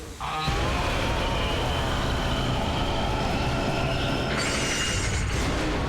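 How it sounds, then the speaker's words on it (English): A train rolls along its track in the video game Killer is Dead, a steady loud rumble with metallic wheel squeal and a brightening screech near the end, continuous and close throughout. "He's sent the train on its danger course."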